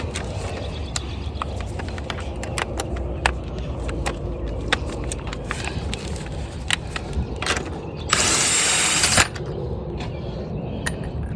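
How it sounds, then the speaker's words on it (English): A regular drill works on the front brakes of a Honda Odyssey, with scattered mechanical clicks and ratcheting taps before one loud, harsh burst of about a second. "now we're going to use the"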